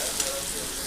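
Bottle gourd sizzles in hot oil in a pan, a brief, bright, steady hiss close to the mic lasting under a second.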